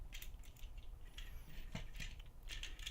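Ratcheted elbow joints on a Takara Transformers Henkei Optimus Prime figure click through their detents in small, quick bursts, close and fairly quiet.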